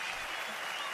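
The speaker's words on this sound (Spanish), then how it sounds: "Con el aplauso de este público." A festival crowd at the Festival del Huaso in Olmué applauds in a dense, continuous wash of clapping throughout, loud and close with no break.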